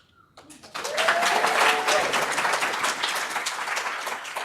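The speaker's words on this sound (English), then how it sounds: "I will hold for the well-deserved applause there" Applause bursts from an audience at an innovation forum after a short quiet start. It swells to a full, continuous roar of many clapping hands and stays strong to the end.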